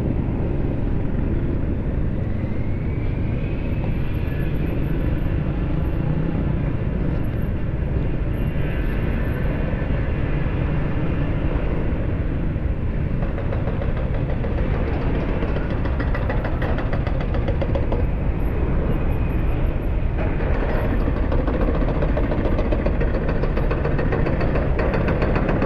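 Several motorcycles idle together in a continuous, loud, steady engine drone that runs the whole time with no talking.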